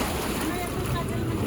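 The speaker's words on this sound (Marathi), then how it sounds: "बेबी तिथे बघ फवारा येते बघ." Sea water bursting up through a rock blowhole on the Konkan coast, a continuous rushing, surging wash over steady wind and surf noise, with faint voices in the background.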